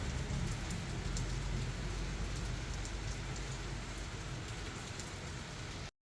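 Heavy rain in Uganda pours down in a steady, loud, unbroken hiss that fills the scene and cuts off abruptly at the end, with no voices.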